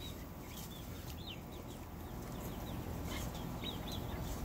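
Chickens cluck softly over a steady low outdoor rumble, with short chirpy calls scattered throughout.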